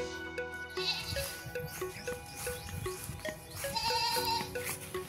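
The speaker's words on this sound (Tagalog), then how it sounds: "dito po sa property, may mga kambing po silang nakatali" Several tethered goats on a farm lot bleat repeatedly nearby, overlapping cries rising and falling over a faint outdoor background.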